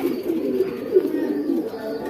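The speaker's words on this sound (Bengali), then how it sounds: "1 পাট্টা কবুতর এটা" Soft, repeated cooing from a young checkered pigeon, the season's chick from a racing loft. The cooing is low and steady, close by, and goes on through the short stretch with no talk.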